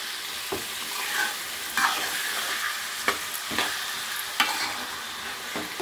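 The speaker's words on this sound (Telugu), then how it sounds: "చూసారు కదా, ఇలాగా వేగనిద్దాం కొంచెం." Chicken stirred and fried in oil in a pan for radish chicken curry: a steady, close sizzle broken by repeated scraping strokes of the spoon every second or so, with no one talking.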